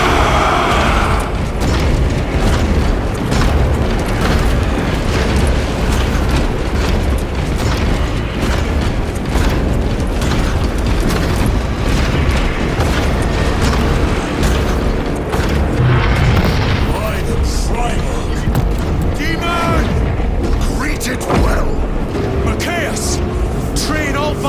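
Massed gunfire and explosions from a Warhammer 40K Space Marine 2 battle rage without pause, with dense rattling shots, repeated booms and clanking mechanisms, while voices shout over the din.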